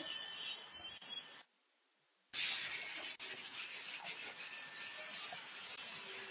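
A classroom board wiped clean during an economics lecture, heard as a close, steady rubbing swish in continuous strokes after a brief pause.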